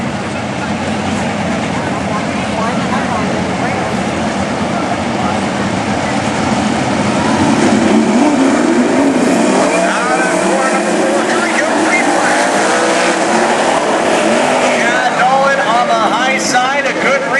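Race cars circle a dirt track at Cottage Grove during a national heat race, a loud, continuous roar of engines that swells and fades slightly as they pass, with a commentator speaking over it.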